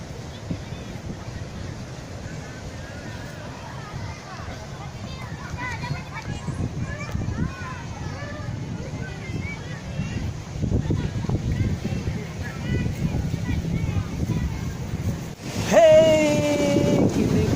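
Surf and wind at Pariaman beach, a steady broad wash of waves with gusting wind noise throughout, under voices talking and a brief louder burst near the end.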